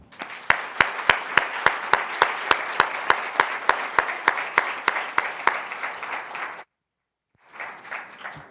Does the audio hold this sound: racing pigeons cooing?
no